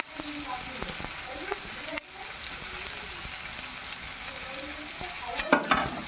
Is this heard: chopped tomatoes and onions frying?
yes